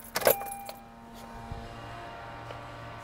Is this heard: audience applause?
no